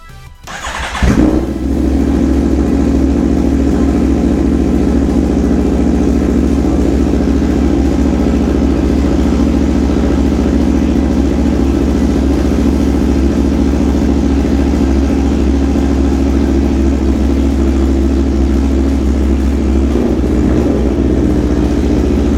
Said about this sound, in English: bike fired up and idled nice and smoothly